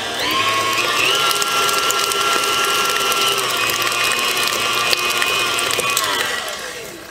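Blender whirs muffin batter with sour cream in one continuous, loud, steady motor run for several seconds, its pitch holding level before winding down at the end.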